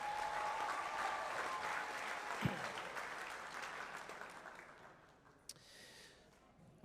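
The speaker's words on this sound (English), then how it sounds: "One more round of applause, please." Applause from the crowd at a high school athletics hall of fame induction ceremony, steady clapping that gradually fades out, leaving a few isolated claps and room noise at the end.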